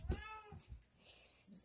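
A cat meows once, close and clear, followed by faint rustling and a soft second mew near the end.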